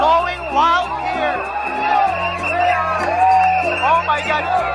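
A dense street-festival crowd at Sinulog 2017 whoops and shouts over loud drumming and babble, with voices calling out close by.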